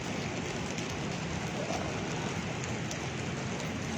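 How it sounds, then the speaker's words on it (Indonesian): Steady afternoon rain falls in Yogyakarta, an even, dense hiss of drops on surfaces that stays constant and moderately close, with no talking. "Jogja sore ini hujan."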